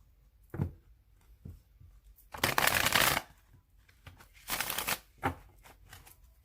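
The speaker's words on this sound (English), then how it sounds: "I'm going to shuffle the cards 3 more times" Several quick bursts of riffling cards, short ruffles with quiet gaps between them, close by and alone.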